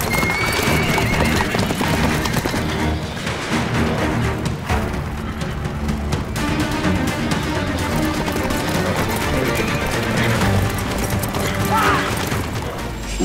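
A horse gallops with dense, rapid clip-clop hoofbeats and neighs within a loud, busy scene of rushing noise and crashes, set during a sandstorm.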